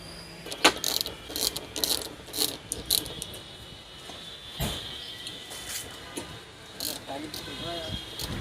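Star bolts on a Ford EcoSport door lock are loosened with a ratcheting tool, bursts of quick clicking pawl sounds and metallic rattles repeating up close while someone speaks throughout.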